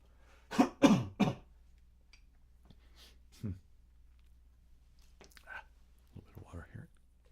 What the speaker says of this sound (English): I got to clear my throat, excuse me.